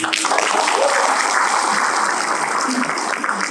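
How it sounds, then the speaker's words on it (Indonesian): Audience applause at a motivational coaching seminar, a sustained wash of many hands clapping at steady loudness from start to finish, with voices faintly mixed in. "Sekali lagi tepuk tangan bagi teman."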